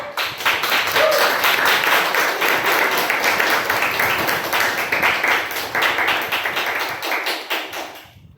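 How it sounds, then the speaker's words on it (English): An audience at a Toastmasters club meeting claps together, a sustained burst of dense indoor applause from a crowd, loud and steady for several seconds before tapering off. "can we have a clap for that?"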